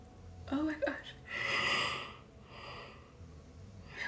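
A man yawns aloud with a long, drawn-out breathy exhale, sitting between quieter breaths and faint sounds close to the mic during a relaxed evening Reiki session.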